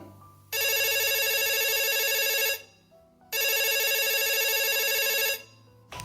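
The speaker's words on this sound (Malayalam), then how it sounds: "നീ എന്നാടി കോൾ എടുക്കാത്തെ?" A mobile phone rings with an incoming call, playing a bright electronic ringtone in two long bursts of about two seconds each, with a short pause between them, loud and close with no voices over it.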